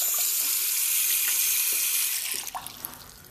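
Cartoon water rushes steadily down a sink drain, a loud continuous hiss that thins into gurgling, bubbly drips toward the end, with no voices.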